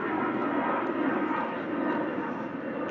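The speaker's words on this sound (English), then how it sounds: "There goes another plane." Steady, broad roar of a fixed-wing airplane passing overhead, a constant wash of engine and air noise with no breaks, moderately loud throughout.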